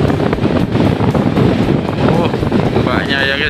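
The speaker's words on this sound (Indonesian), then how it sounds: "Angin begitu kencangnya, ombak juga kencang guys." Strong wind roars across the microphone at a beach in Paciran, Lamongan, with rough waves surging beneath it, loud and continuous throughout.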